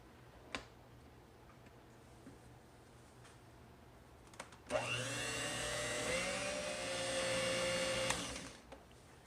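An electric mixer whirs through a keto cheese ball mixture seasoned with onion powder and black pepper, starting abruptly after a few quiet taps and running with a steady motor whine for about three seconds before cutting off.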